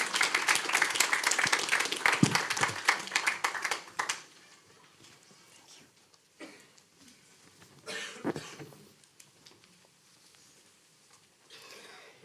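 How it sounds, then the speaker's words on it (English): An audience at a forum on antisemitism applauds speakers on stage, a full burst of clapping for about four seconds that quickly dies away into a quiet room with scattered coughs and shuffling. "Please give them a round of applause."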